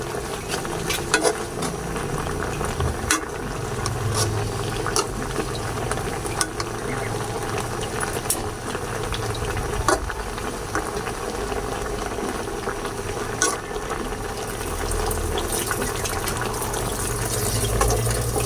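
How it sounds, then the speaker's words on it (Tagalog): A pot of fish stew with vegetables bubbles at a steady, vigorous boil, with continuous gurgling and popping close by and no talking. "Ayun, kumukulo na po"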